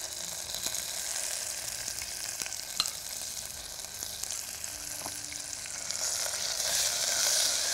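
Onions sizzle steadily in hot oil with curry leaves, coriander and ginger garlic paste for rasam, a soft continuous frying hiss with occasional stirring clicks, growing slightly louder toward the end.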